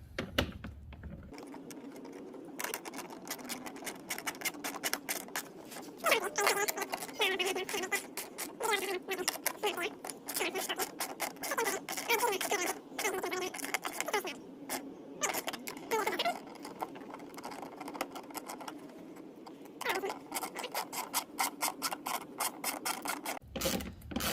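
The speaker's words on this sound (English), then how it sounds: "Then you flip your ratchet to tightening mode, and you tighten them away." A hand ratchet tightening the mud flap screws on a Ford Edge, a long run of fast clicking pawl ticks with brief pauses, close and steady without any talking.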